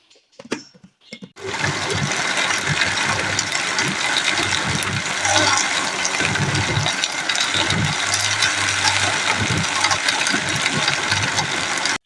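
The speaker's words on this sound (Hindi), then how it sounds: "मिक्सर पर कवर लगा लेंगे और मिक्सर को ऑन कर लेंगे।" An electric mixer grinder blends mint chutney ingredients with water, green chilli, ginger, garlic, black salt and cumin, running steadily and loud for about ten seconds after a few brief knocks as it starts.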